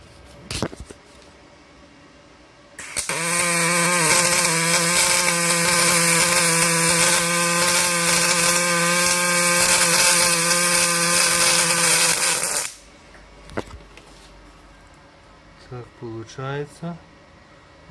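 A Magnum MIG 222 LCD Dual Puls Synergy semi-automatic welder MIG-welds an almost vertical seam on an angled part at 18.8 volts. It gives a loud, steady buzzing crackle for about ten seconds, then cuts off, and a voice follows.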